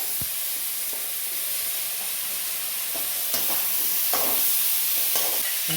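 Potatoes sizzle in hot oil in a pan while being stirred for a Tamil kuzhambu with drumsticks, a steady bright hiss broken by a few scraping stirs.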